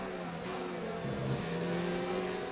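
Ferrari Formula 1 car engine in the F1 2019 racing game, a steady droning whine with harmonic pitch lines easing slightly, holding at a constant loud level throughout without breaks, as the car is held back in the race.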